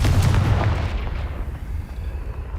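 A Confringo spell blast in Hogwarts Legacy gives a single heavy, booming explosion up front, and its rumble fades into a rough, decaying tail.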